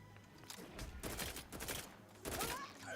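Rapid bursts of gunfire from a sci-fi gun in The Outer Worlds 2, several loud volleys in quick succession with short gaps between them, close and punchy.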